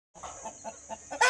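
Chickens cluck in short repeated bursts while being caught and caged in a village, close and fairly loud over a steady high whine.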